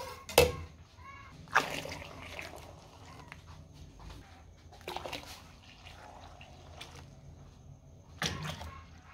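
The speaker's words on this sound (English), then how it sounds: "We'll top the pot up with filtered water." Water pours and splashes into a pot in several short bursts, with quieter trickling and dripping between them.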